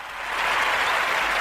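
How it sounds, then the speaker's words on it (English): Audience applause, a dense wash of many hands clapping that swells quickly and holds steady, full and fairly close, with no voices over it. "Can we clap it up?"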